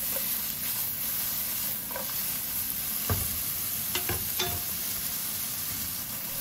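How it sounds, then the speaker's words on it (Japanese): Curry-flavored potatoes stir-fry in a pan with a steady close sizzle, broken by a few sharp scrapes and clacks of the utensil tossing the pieces, no voices. "色が変わるまでひたすら炒めていきます。"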